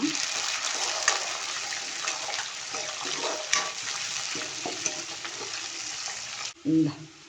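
Chickpeas sizzle in a pan with reddened fried onions, a continuous close crackle and hiss with occasional stirring scrapes, ending in a short louder clatter.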